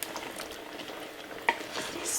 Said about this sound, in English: we're going to toss back in there all of that delicious chunks of beef with the juice, and just mix it all through